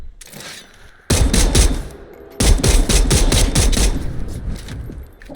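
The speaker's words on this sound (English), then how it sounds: "that's just a pistol" Pistol fire in Dead Island 2, loud rapid shots in two sustained volleys separated by short quieter gaps, each burst a quick string of sharp cracks.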